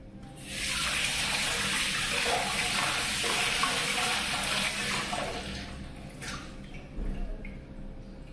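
Tap water runs into a sink while hands are washed, a steady close splashing hiss that starts abruptly and continues, thinning near the end with a brief extra splash.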